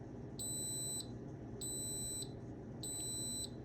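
Three long, high-pitched electronic beeps from an Instant Pot signalling a finished cheesecake sound at an even pace, each lasting about half a second over a faint low hum.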